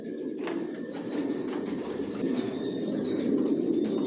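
Racing pigeons in a loft, including silver mealy birds, keep up a steady low cooing drone. Faint chirps and a light flutter of wings rise above it, and no one speaks.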